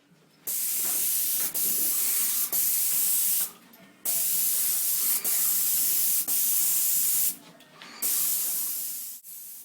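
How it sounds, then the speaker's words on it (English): Bursts of loud, steady spray hiss from a Wagner Project Pro 119 airless paint sprayer with a fine finish tip spraying cornice, several passes of a few seconds each separated by short pauses. "Just showing you how clean you can be with a fine finish tip."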